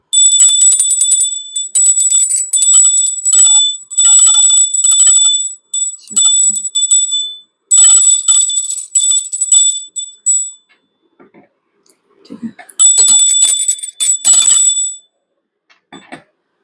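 Small hand bell ringing in repeated bursts of bright, sustained chiming, each shake lasting a second or two with short pauses between, loud and close, with brief quiet gaps and a few faint low thumps.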